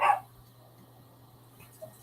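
A puppy gives one short, sharp bark right at the start, then only a quiet background hum remains.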